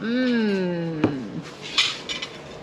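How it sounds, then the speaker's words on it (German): Plates of food set down on a restaurant table beside a Mozambique beach, with a rising and falling voice at the start, then a sharp ceramic clack and several lighter clinks of dishes and cutlery. "Da kommen die ersten Teller."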